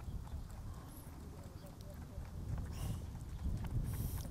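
Quiet, even hoofbeats of a horse in a smooth four-beat tölt gait, soft and somewhat distant, with faint background noise.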